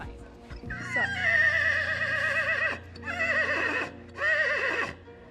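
Titan, a horse at a horse show, lets out a loud, close whinny in three long quavering bursts with short pauses between them, with faint background noise underneath.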